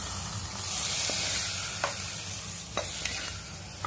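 Fried mustard seed tempering goes into hot beetroot buttermilk curry in a pan, with a soft sizzle beneath a spoon stirring and scraping steadily, punctuated by a few light clinks.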